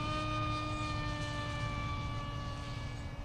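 A Bixler 2 RC plane with an NTM motor and 7x4 prop at full power gives a steady, high-pitched whine that holds evenly and fairly loud throughout.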